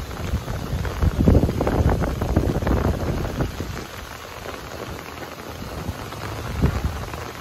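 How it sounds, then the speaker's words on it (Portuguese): Rain pouring over a flooded river district in Itajaí, Brazil, a steady broadband wash with gusty wind buffeting the microphone, louder in the first half then easing slightly, with a brief surge near the end. "A chuva voltou, ó."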